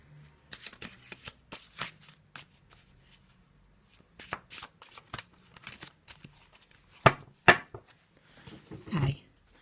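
Tarot cards being shuffled by hand: bursts of quick riffling and flicking, irregular and close, with pauses between and a few louder snaps near the end.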